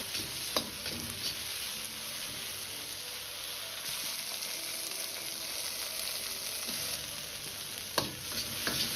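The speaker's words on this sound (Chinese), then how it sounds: "大概翻炒1分钟左右，" Eggplant stir-fried in a hot wok with a little water, a steady close sizzle broken by occasional scrapes and clinks of the spatula turning the pieces.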